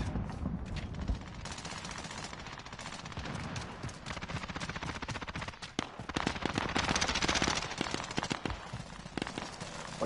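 Submachine gun firing in a video game, rapid bursts of close, loud automatic shots running through most of the stretch with brief pauses between volleys.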